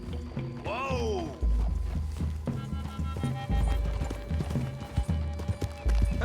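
Horse hooves trot steadily in Red Dead Redemption II, a loud rhythmic clip-clop. A horse whinnies sharply near the start, with riders' gear jingling over an outdoor forest ambience.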